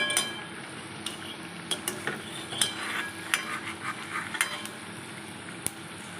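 Batter of ripe banana, semolina and flour fries in hot oil for malpua, a continuous close sizzle broken by frequent sharp clinks and scrapes of a metal utensil against the pan.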